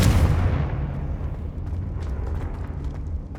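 A Confringo explosion spell goes off in the video game Hogwarts Legacy, a loud, rumbling blast right at the start that decays into a sustained low roar and crackle for several seconds, with no voices.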